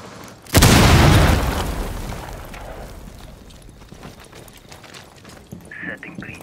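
A breach charge blasts through a wall in Rainbow Six Siege on Xbox One, one loud, sudden explosion followed by a long rumbling decay with scattered debris and clatter, then faint game sounds.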